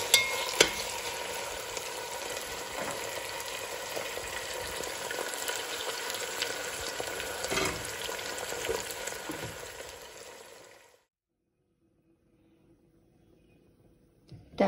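Fresh meat fries in a pan for a simple potato dish, a dense, close sizzle with stirring clatter that runs for about ten seconds, then cuts to near silence before a brief scrape at the end.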